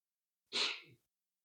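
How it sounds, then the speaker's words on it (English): A man sneezes once upstairs, a single sharp, burst-like sneeze that is faint and distant, followed by a short breathy tail and then silence. "I don't know if you heard my husband sneezing upstairs in the mic."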